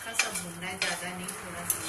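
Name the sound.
sautéing capsicum with corn and mushrooms in a pan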